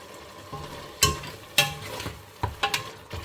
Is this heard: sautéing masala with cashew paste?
yes